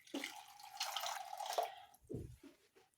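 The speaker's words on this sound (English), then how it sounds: "I'll add in some water" Water pours into a bowl in a home kitchen, a steady splashing stream lasting about a second and a half, followed by a few soft knocks and drips, close and fairly quiet.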